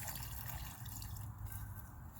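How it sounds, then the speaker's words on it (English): Water drains out of a handful of soaked paper pulp into a bucket while making a paper fire log, a faint, steady trickle and patter close by with no voices. "put your hand in there, kind of let most of that water drain out itself"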